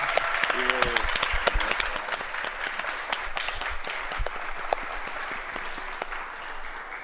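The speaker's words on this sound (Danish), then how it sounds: "det var vinderen af snescooteren, der fik klapsalver herinde fra callcenteret" Steady applause fills a call centre as staff clap for the winner of a snowmobile at a nationwide fundraiser, with a voice talking over the clapping throughout.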